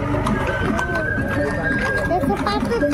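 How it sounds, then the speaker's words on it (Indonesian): Horse hooves clip-clop through a traditional Indonesian street parade in Gamping, a busy, continuous scene where the steps are mixed under crowd noise and nearby chatter. "di belakangnya kuda"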